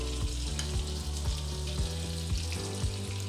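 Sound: desi ghee heating and sizzling in a hot kadhai

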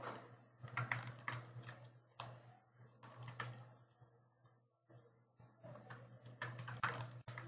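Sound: typing text on a computer keyboard

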